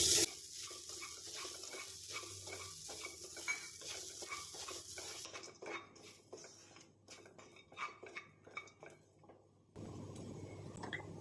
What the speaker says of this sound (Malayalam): ആ വെള്ളം ഒന്ന് പൊട്ടി കഴിയണം അതുവരെ ഒന്ന് ഇളക്കാം